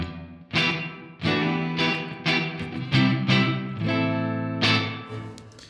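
Short musical phrases, a series of sustained tonal notes with sharp attacks, processed through a room-style reverb from the iZotope Neoverb plugin set to a shortened decay, each note trailing off briefly before the next.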